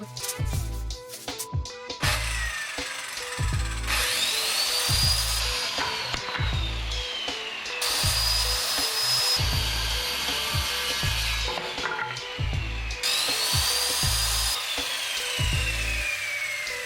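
A power saw cuts 2x4 and 2x6 lumber for an outboard motor stand, the loud motor running almost continuously and rising in pitch between cuts, with several passes through the wood, close and without talking.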